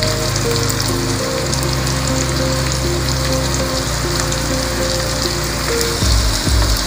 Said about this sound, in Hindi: सारी सब्जियों को अच्छे से हमें फ्राई करना है।